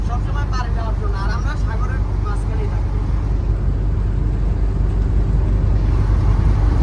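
A river boat on a Sundarbans tour in Bangladesh gives a constant, loud, low engine drone with water rushing past, and faint voices come through at the start.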